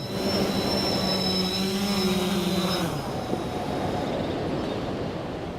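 A 3DR Solo quadcopter descends to land over a Lake Huron beach. Its rotors make a steady, loud whine with high tones that drop and cut out midway, leaving a broadband wind-like rush.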